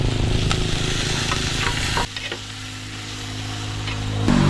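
Tomatoes and onions fry in a hot pan, a steady loud sizzle with stirring scrapes that drops in level midway and then builds again, no talking.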